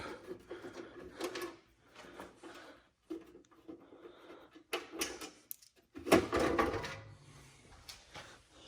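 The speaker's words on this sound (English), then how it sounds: "Alright, let's open the computer back up." An old desktop computer case is opened by hand, giving close clicks, knocks and scraping panel sounds in uneven bursts, with a louder rattling clatter near the end.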